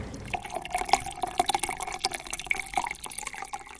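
Water sloshing and dripping in a bowl as thick flattened rice (poha) is rinsed by hand, with soft splashes and trickles throughout, close and moderately loud.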